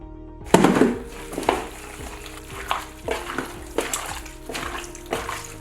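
Goat meat with skin being worked by hand with black pepper and Himalayan salt, giving soft wet squelching and slapping pulses roughly every second, close and moderately loud, with no voices.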